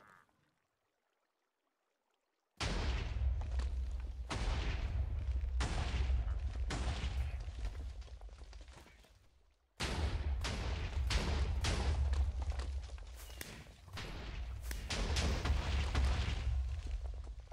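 Video game explosions go off in dense, continuous barrages of booms and bursts, loud and close, filling long stretches after a silent opening, broken by a brief dip before the blasts resume.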